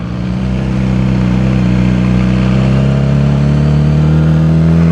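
A motorcycle engine with no exhaust fitted runs loud and close, rising at the start and then holding a raw, steady, heavy drone with strong low rumble.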